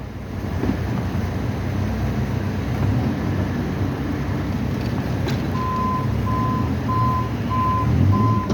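A snow removal truck in Mattapan Square gives a steady series of evenly spaced reversing beeps over a constant diesel rumble and outdoor background noise, with no talk.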